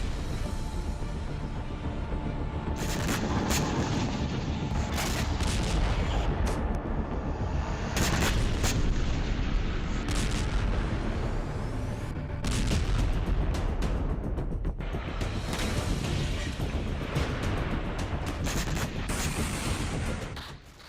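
Artillery explosions from the Russia-Ukraine war rumble in dense, loud bursts of booms and blasts, repeated throughout with no pause.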